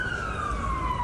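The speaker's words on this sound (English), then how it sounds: "The sound of sirens filling the air in Turkey" Emergency sirens wail through the air in earthquake-hit Turkey after a 7.8 magnitude quake, one steady, slowly falling tone sounding continuously and fairly loud over a low rumble of background noise.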